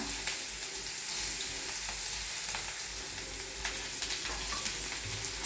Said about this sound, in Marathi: आता आपला हा कांदा छान तांबूस परतून झालेला आहे.